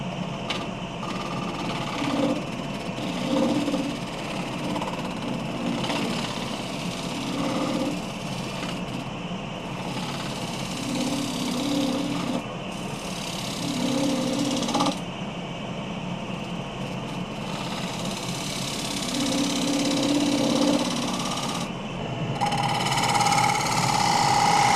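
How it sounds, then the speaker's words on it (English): Steady motor-like hum of a wood lathe spinning a wet, punky spalted alder bowl containing epoxy, with a skew scraping the foot; recurring bursts of scraping rise over the drone, growing slightly louder toward the end. "I cleaned up the foot, scraping with a skew."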